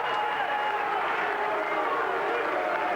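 Stadium crowd at a 1987 Rugby World Cup match between the USA and England, a steady distant roar of voices reacting throughout, with commentary over it.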